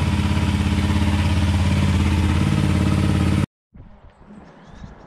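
Honda CRF 300 Rally single-cylinder motorcycle engine running loud and steady with an airbox modification, a close rumbling drone that cuts off abruptly, leaving faint rustling handling noise.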